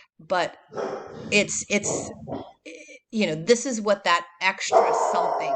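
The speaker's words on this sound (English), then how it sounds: "sorry for the dog barking interruption" Dog barking in bursts of sharp, repeated barks mixed in among a man's lecturing speech, close and loud, interrupting the talk.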